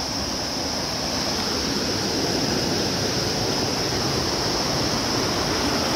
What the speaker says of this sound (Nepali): दामी खोला बगिरहेको छ यहाँ